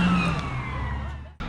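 A car passes close by with a loud engine and tyre roar that drops in pitch as it moves away, then cuts off abruptly.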